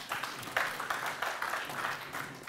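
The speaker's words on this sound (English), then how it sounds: "Let's give her a round of applause." A conference crowd claps for a Postgres talk, fairly faint and distant, with a sustained, even patter of many hands and no speech over it.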